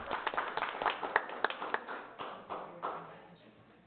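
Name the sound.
audience clapping at a city council meeting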